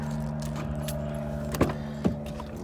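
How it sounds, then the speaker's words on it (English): Loose rusty Allen keys rattle faintly over a steady engine drone inside a vehicle towing a trailer, with two short metallic clinks standing out near the end. "Couple Allen keys here."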